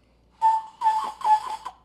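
A person whistles a tune in a few bright, near phrases, a held note followed by two warbling bursts, with no talking over it.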